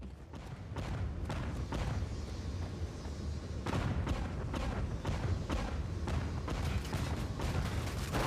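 Weapon fire from the video game Dark Void: dense, repeated booming shots and explosive thuds over a constant loud rumble of battle, with no clear speech.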